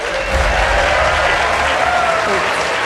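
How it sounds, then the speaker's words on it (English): Audience at a NASA celebration for the OSIRIS-REx sample reveal breaking into steady, dense applause with cheering, loud and continuous throughout with no pauses. "don't be afraid to clap or cheer"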